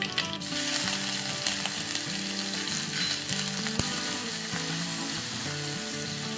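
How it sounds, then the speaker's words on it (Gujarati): Garlic paste frying in hot oil with popped mustard seeds, a steady close sizzle with constant crackle running throughout and one sharp click near the middle. "રાઈ તતડી ગઈ છે, તો હવે એમાં લસણની પેસ્ટ નાખી દેશું."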